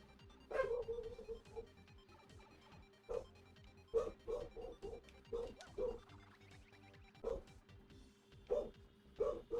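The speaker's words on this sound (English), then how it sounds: "dog's barking this time" A dog barks in a string of sharp yips and woofs, roughly a dozen uneven bursts, some in quick pairs, sounding fairly faint and somewhat distant over a quiet background.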